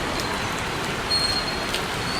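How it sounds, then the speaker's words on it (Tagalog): Dense, steady hiss of heavy rain pouring continuously, with faint high tones over the constant wash. "Grabe, lakas ng ulan, no?"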